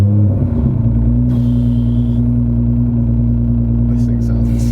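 A 1000 hp Nissan R35 GTR's engine idles and runs steadily with a deep, constant droning hum, loud and close, with no clear revving.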